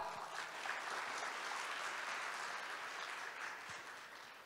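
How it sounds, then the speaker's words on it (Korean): Broad, sustained applause from the audience welcoming guests at the opening ceremony of a shipbuilding society's annual meeting and autumn conference, dense and even throughout. "소개해 드릴 때마다 큰 박수로 환영해 주세요"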